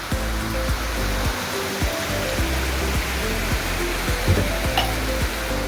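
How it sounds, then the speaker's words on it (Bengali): Heavy rain pours steadily in a rural forest setting, a dense, even hiss with a rapid irregular patter of drops striking a nearby surface close to the microphone. "ভালোই জোরে শুরু হয়ে গেছে বৃষ্টি"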